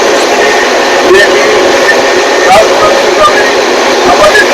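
A passenger express train running at about 115 km/h near Rajnandgaon, heard from inside as a loud, steady rushing rumble with faint rhythmic clicks from the track.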